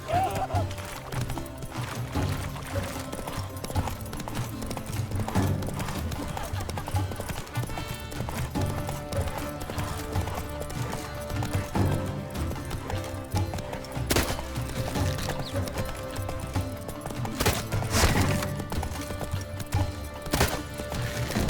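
Horse hooves clip-clopping at a steady trot over The Witcher 3: Wild Hunt game soundtrack, with occasional sharp clanks and a brief whinny.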